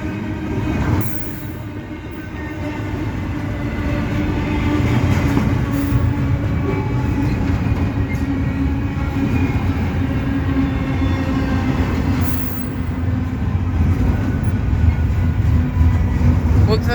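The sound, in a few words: CSX short intermodal freight train slowing down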